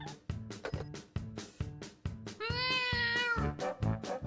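A cartoon kitty gives a drawn-out, wavering meow over a bouncy musical accompaniment with steady rhythmic beats, the meow rising and sustained through the middle of the passage.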